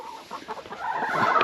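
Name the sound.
chickens clucking in a hoop coop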